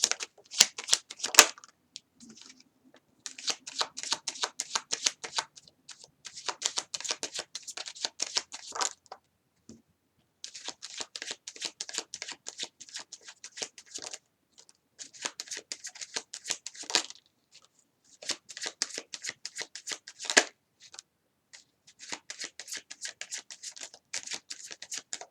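Tarot cards are shuffled by hand in repeated crisp riffling bursts, each a rapid flutter of card edges, separated by short pauses, close and fairly quiet with no talk.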